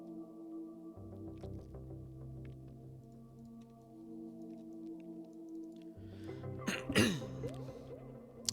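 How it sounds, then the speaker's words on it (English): A person coughing at a microphone during a game session, a short harsh burst of coughs near the end, loud and close over a quiet steady background. "Sorry, I keep coughing."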